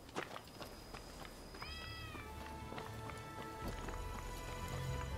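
A kitten meows in the game Rise of the Ronin, a couple of thin high calls amid game ambience with hoof-like clopping and footsteps, moderately near over a rising background rumble.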